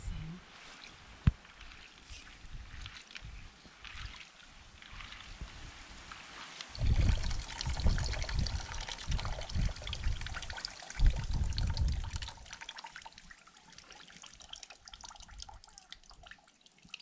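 Water poured and trickling over soaked, pounded corn being washed for Cape Verdean cuscuz, with faint splashing that swells into heavier pouring bursts in the middle before easing back to a quiet trickle.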